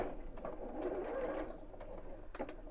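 A sewing machine runs quietly, stitching around the top of a fabric bag, producing a soft steady mechanical whir with faint clicks, fairly distant and low in level.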